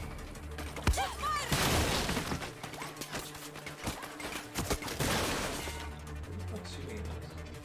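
Gunfire in the video game Far Cry 6: loud bursts of rapid shots and sharp single cracks in uneven clusters, with brief quieter gaps and game ambience between.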